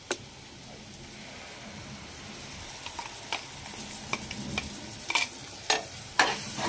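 Ground masala fries into a capsicum gravy, a soft steady sizzle under a growing run of spoon clicks and scrapes against the pan that get louder and quicker near the end.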